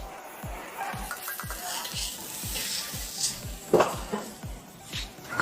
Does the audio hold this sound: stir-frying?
yes